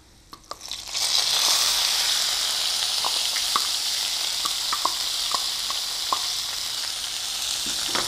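Ground masala paste for chicken rasam sizzles steadily in hot oil in a pan, a loud continuous frying hiss with occasional small pops and spoon stirs, close up with no talking.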